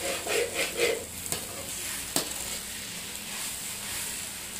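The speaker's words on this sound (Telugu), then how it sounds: "బాగా కలబెడతానే ఉండాలంట నీట్గా." Egg bhurji sizzling and frying in a pan, stirred with a few scraping strokes and a sharp knock midway, steady close crackle throughout with no voices.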